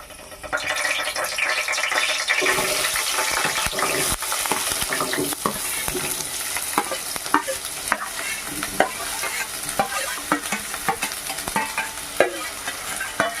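Onions fry and sizzle in hot oil in a home kitchen for chicken curry, a steady bright hiss broken by repeated stirring scrapes and clinks, close and without speech.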